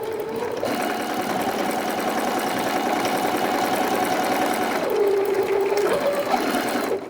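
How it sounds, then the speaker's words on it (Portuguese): A sewing machine stitches the hem of a small pocket for a children's unisex jumpsuit, backstitching at the start and end: a steady, close motor whir that drops in pitch briefly near the end, then rises again. "Também uma costurinha com retrocesso, tanto no início quanto no final."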